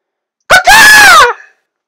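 A human voice imitates a bird call, a rooster-like crow: a short yelp, then a loud, drawn-out rising and falling cry lasting about a second, close and alone.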